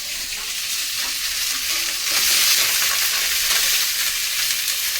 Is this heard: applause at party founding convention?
no